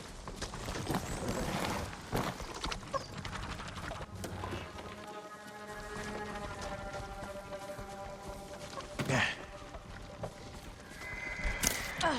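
A horse whinnies over hooves clattering along at a gallop in the video game Ghost of Tsushima, with a soft musical bed and a couple of louder thumps partway through.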